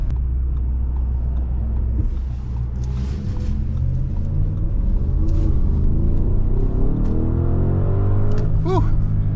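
A 2021 Audi SQ7 Premium Plus with a 500-hp twin-turbo V8 accelerates hard on the road, its deep engine rumble rising steadily in pitch and loudness as the throttle opens, heard from inside the cabin with road noise and no talking.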